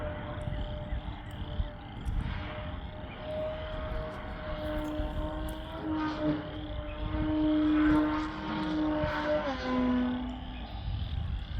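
A radio-controlled model airplane's propeller engine drones through the air, its pitch rising and falling as it passes, mid-distance under a broad outdoor wash with no talk.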